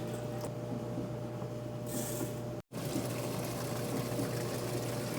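A washing machine fills with hot water for a small permanent-press load, giving a steady pumping hum under a soft rush of incoming water, with a brief cutout in the middle.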